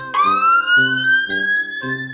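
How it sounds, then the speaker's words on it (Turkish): A loud electronic ambulance siren wails in a rising tone, overlaid with repeated pulsing bursts, close and continuous. "Ambulans hastaları hastaneye götürürken siren çalar."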